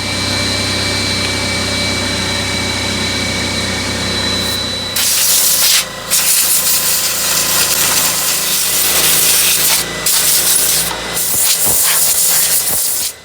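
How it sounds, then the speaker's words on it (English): A loud, close hiss of compressed air blows dust out of a Wood-Mizer saw blade sharpener, steady at first, then in several short bursts with brief pauses between them. "I'll go ahead and spray all this off, kind of blow all the dust and everything out"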